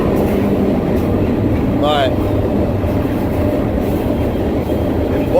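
A passenger train rolls along rails with a steady rumbling roar and rattling, heard from on board, while a brief voice and a short whine cut in.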